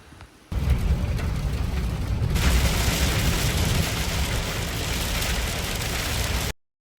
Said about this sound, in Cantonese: 唔使咁大雨啊嘛？